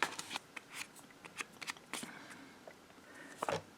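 Scissors cut paper for a handmade tag book in short, crisp snips and rustles, irregularly spaced and close by, with no talk.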